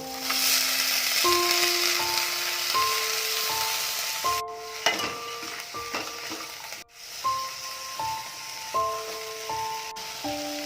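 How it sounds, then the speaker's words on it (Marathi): Soaked field beans tipped into onion-coconut masala in a hot pan, a steady sizzle with scraping stirs and a few clanks, while soft melodic background music plays over it. "मी ते धुवून घेतलेले डाळिंबे घालते"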